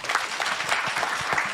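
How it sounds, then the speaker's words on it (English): An audience at a World MSME Day event applauds steadily, dense clapping that stays even throughout with no talk over it. "So let's clap for PS."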